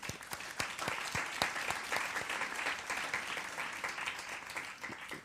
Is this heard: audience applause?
yes